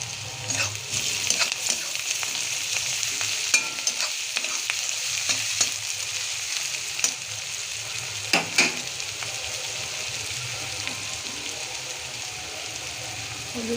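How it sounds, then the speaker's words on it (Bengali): Ginger-garlic paste sizzling in a pan of oil while being stirred for chana masala, a continuous loud crackle broken by sharp spoon scrapes and taps, no speech. "এটা নাড়ব। আদা রসুন পেস্ট একসঙ্গে পেস্ট করে নিয়েছি"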